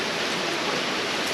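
Heavy rain pours steadily at a riverside campsite, a loud, dense and unbroken hiss of falling water with no voices.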